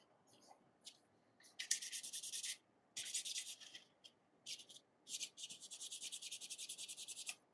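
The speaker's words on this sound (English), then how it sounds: "I'm just gonna go over with the sandpaper." Sandpaper rubbing over a 3D printed model in short, close, quiet scratchy strokes, some brief and some sustained in a quick back-and-forth rhythm, with no talking.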